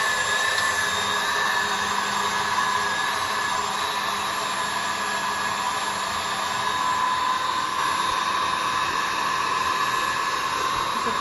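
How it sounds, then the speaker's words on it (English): KitchenAid stand mixer whipping chocolate macaron mixture to peaks: a steady, loud whirring motor drone with a high whine, constant and unbroken throughout. "KitchenAid mixer, and I'll just let that mix until it goes peaking"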